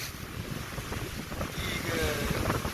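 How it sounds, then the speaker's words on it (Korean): Rough East Sea waves crash onto the rocky shore at Simgok harbour in Gangneung, a close, continuous roar of surf and churning water mixed with heavy wind buffeting. "와, 제 발밑까지 파도가 치네요."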